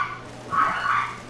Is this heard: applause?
no